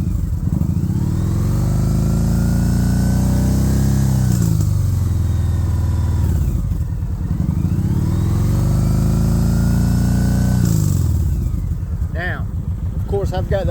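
A Kawasaki Voyager VN1700 motorcycle fitted with SharkRoads True Duals exhaust pulls hard through the gears, a loud, close engine rising in pitch with a dip at each shift, three climbs in a row; wind rumble and a voice briefly break in.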